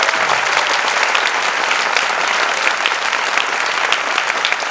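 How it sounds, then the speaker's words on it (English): Audience applause for the Union Minister of Road Transport and Highways, loud, steady clapping from a large crowd sustained throughout without a break. "Come on guys, we will give him a huge round of applause."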